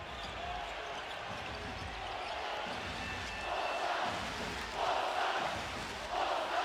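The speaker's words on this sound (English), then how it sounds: "Now just listen to this crowd." Arena crowd roaring at a FIBA Basketball World Cup 2019 game between Bosnia and Herzegovina and Belgium, a steady loud roar that swells in surges, with faint ball bounces beneath.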